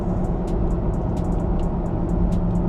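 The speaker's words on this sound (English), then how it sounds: "We're gonna downshift now" A 2017 Toyota Tacoma pickup engine drones steadily as it downshifts to fifth gear, a constant low rumble heard from inside the cab with faint ticking above it.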